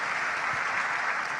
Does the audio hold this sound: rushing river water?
no